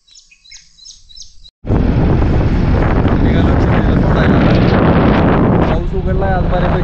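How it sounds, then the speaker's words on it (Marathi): A myna calls from a tree in the morning with a short run of repeated, fairly faint chirps, then loud roaring wind noise abruptly drowns everything out. "मैना आली सकाळ सकाळ."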